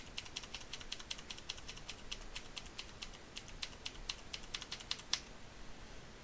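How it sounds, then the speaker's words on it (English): Repeated taps on computer keyboard arrow keys while nudging a character in Adobe Animate, a steady run of light, crisp clicks at close range with no talk. "So I might just go like 25 arrow keys up and see how that looks."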